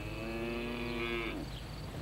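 A young cow grazing near a smelter lets out one long, low moo that rises slightly and fades after about a second and a half, clear and fairly close, with no talk.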